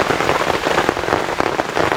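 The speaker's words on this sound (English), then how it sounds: "even though it sounds like it might be raining heavy right now" Dense, steady patter of heavy rain drumming on a tent overhead during a severe thunderstorm, loud and close with no voices.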